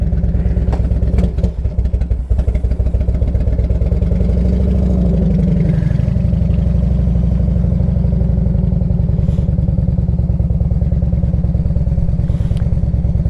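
A 1998 Harley-Davidson Electra Glide Classic with full fairing being ridden, its engine a loud, continuous, close-up rumbling drone that holds steady throughout with no talking.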